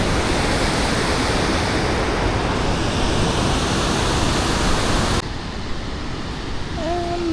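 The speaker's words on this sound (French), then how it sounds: "Ah! Cascade." Waterfall cascading near a zip line site in Canada, a loud steady broadband roar of falling water that drops to a quieter rush partway through, with faint whistle-like tones at the end.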